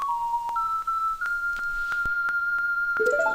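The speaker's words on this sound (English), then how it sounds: "That's the song of double time." An ocarina plays the Song of Double Time from the Majora's Mask video game: a short run of clear, sustained whistle-like notes stepping up and down, finishing with a quick flurry of rising notes.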